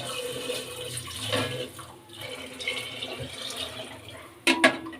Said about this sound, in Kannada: ಇನ್ನೂ ಒಂದು ಸ್ವಲ್ಪ ನೀರು ಸೇರಿಸ್ಕೊಳ್ಳೋಣ